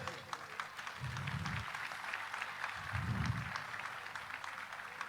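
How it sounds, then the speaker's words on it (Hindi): A standing audience at a formal public event claps in the distance, a faint, steady patter of applause mixed with low crowd murmur. "एक बार खड़े होकर करतोल ध्वनि से ताली बजाइए।"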